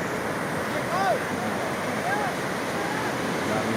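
Surf at Sabang Beach in Baler washes steadily up the sand in a broad, continuous rush, with wind buffeting the microphone and brief voices calling out over the water.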